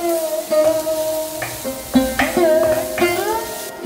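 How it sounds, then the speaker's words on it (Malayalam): Chopped onions and garlic being sautéed in a pan, a light sizzle with stirring clinks and scrapes up close, over a steady tonal hum in the background. "സവാളയും ചേർത്ത് നന്നായിട്ടൊന്ന് വഴറ്റിയെടുക്കാം."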